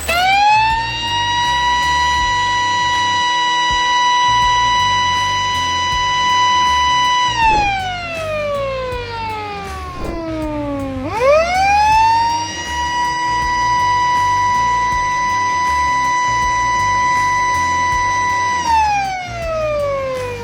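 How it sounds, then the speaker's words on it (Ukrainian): A loud electronic siren from a water vending machine wails steadily, dips and drops in pitch, then rises back to a sustained tone before falling again; no voices. "Автомати з водою тепер виють сиренами."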